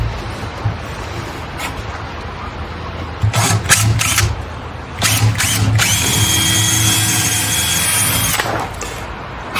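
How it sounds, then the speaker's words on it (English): A power drill bores a hole in wood in several short whirring bursts, the longest a sustained high whine lasting a few seconds, close and loud over quiet room noise, with no talking. "So I've drilled that first hole"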